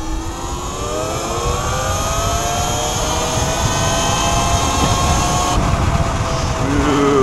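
An E-Ride Pro electric dirt bike with an X9000 controller upgrade accelerates on the throttle, its motor whine rising steadily in pitch under loud wind noise, with no talk.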